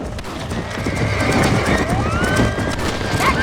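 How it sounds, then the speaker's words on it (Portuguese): Horse in the video game Red Dead Redemption whinnying and neighing loudly over steady clip-clopping hooves, amid a busy game soundscape with a voice speaking partway through. "Calma aí, cavalo. Ô, meu cavalo ficou doido."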